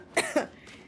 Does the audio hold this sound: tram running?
no